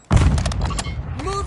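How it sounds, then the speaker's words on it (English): A Semtex grenade detonates in a video game: one sudden loud booming blast right at the start that decays into a rumbling tail, followed by faint tonal game sounds. "Throwing Semtex!"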